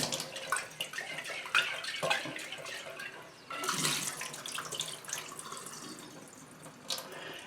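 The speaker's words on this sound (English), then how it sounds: "I like to rinse these twice." Sprouting peas and beans are rinsed under running water and drained, giving sink splashing, pouring and dripping with a sudden louder gush midway.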